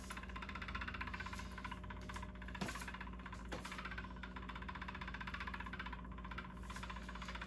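A Fristanden magnetic stirrer hot plate runs steadily, giving a low, even motor hum with a faint whir and a couple of brief taps, heard alone and fairly quiet throughout.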